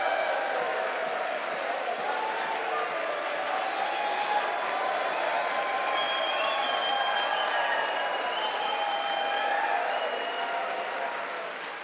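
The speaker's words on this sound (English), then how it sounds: "Thank you for that very generous applause." A crowd in the US House chamber at Congress applauds the House Speaker with sustained, dense clapping and some cheering, heard from a distance and fading slightly at the end.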